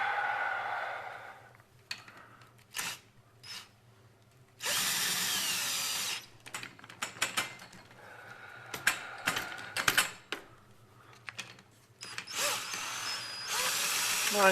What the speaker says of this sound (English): drill with a socket in it.